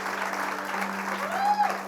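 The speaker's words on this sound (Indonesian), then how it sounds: "tepuk tangan dulu dong" A studio audience at an Indonesian TV music show claps after a guitar performance, with moderate, diffuse applause under a steady hum and brief background voices.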